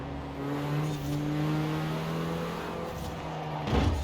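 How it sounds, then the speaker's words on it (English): Engine of a 2018 Renault Megane R.S. in Forza Horizon 4, held steady at the rev limiter with a continuous buzzing drone, ending in a short louder burst. "Just bang the limiter."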